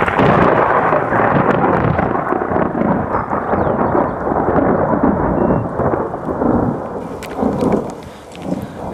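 Rolling thunder from a lightning storm directly overhead while crossing Utah, a loud sustained rumble with rain, swelling and fading over the whole stretch with no talk.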